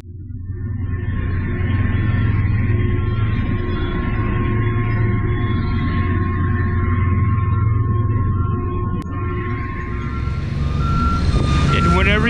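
A truck reverses near heavy machinery at a work site where buried electrical lines are being located, its steady electronic backup beeper sounding over a loud, close, continuous diesel rumble.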